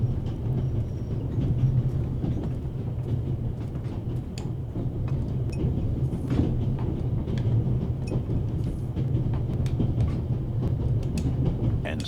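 Steady rumble of a moving train in The Raven Remastered video game, a continuous low drone with faint rattles and clicks running throughout, no talk.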